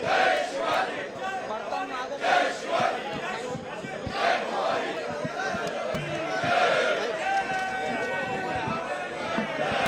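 A celebrating crowd cheers and chatters at a political gathering of Mahayuti leaders while a portrait of Chhatrapati Shivaji is held aloft, a dense, continuous roar with surging shouts throughout.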